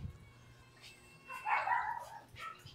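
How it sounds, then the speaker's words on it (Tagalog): A dog gives a short, muffled yip or bark in the middle, fairly faint against a quiet room with a low hum. "Basta may natahol na aso dito, tatahol din yan."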